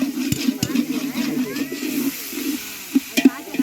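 Food being stirred and mixed in a pan, with scraping and clattering strokes over a steady low hum. Brief sharper knocks near the end, and faint voices in the background.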